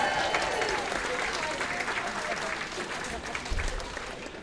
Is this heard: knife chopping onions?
no